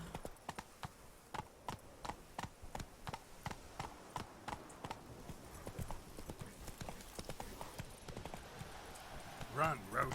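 Geralt's horse Roach runs in The Witcher 3 in the Toussaint region, its hooves pounding in a steady rhythmic clip-clop throughout, quite faint, while someone talks over it.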